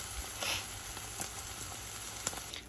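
Food frying in avocado oil in a pan, a steady close hiss and crackle with occasional sharp pops, no voices.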